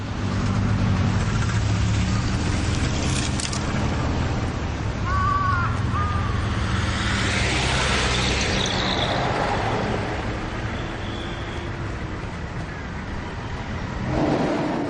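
Road traffic at a pedestrian crossing, with a steady rumble of passing cars and buses and a hiss of air brakes, while crows caw nearby over the continuous traffic noise.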